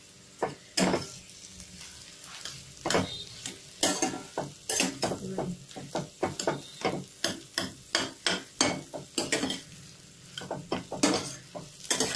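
A spoon stirs boiled mashed potato together with fried onion, garlic and green chili in a pan for egg devil, giving a steady run of close, distinct scraping and clacking strokes with no voices.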